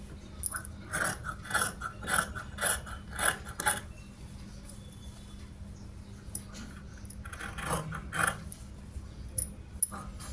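Scissors snip through fabric for a school dress top in quick, quiet bursts of crisp cuts, grouped into two runs with a pause between.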